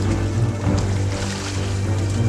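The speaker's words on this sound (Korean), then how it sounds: "결국 그동안 쓰지 않았던 엔진에 시동을 걸었습니다." Engine running aboard a solo round-the-world sailing yacht at sea, a steady low drone with a strong, continuous hum and broadband wash of water and wind throughout, loud and close.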